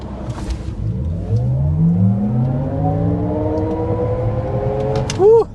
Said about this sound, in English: so let's start out with a hard acceleration.